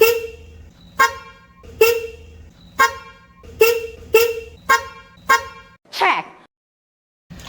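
A Kia Morning's horn, replaced with an Equus-style horn, blares in a series of about eight short, loud honks at a steady pace, followed by a brief squeal and then silence.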